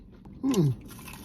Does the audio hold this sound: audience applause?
no